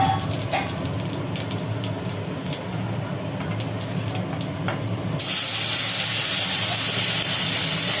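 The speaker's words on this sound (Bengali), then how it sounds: "তেলের ওপরে পড়ে গেল কালো জিরে" Black cumin (kalonji) hits fresh hot oil in a kadai, giving a steady close sizzling hiss that jumps suddenly louder and brighter partway through and then holds, with no voices.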